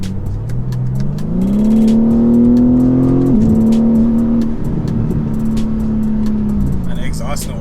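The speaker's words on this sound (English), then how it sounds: "the exhaust notes, so you definitely hear it" A BMW M3 CS's exhaust drones loudly from inside the cabin while driving, the engine note climbing under acceleration, easing briefly, then holding a steady hum as occupants talk over it.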